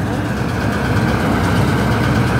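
A Massey Ferguson 5245 tractor engine idles close by after a mustard harvest on a farm, a loud, steady low rumble that holds even and unbroken throughout.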